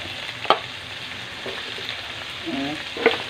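Squash and vegetables being stirred in a frying pan for a Filipino coconut-milk vegetable dish, a soft steady sizzle with a few sharp utensil scrapes and clinks against the pan.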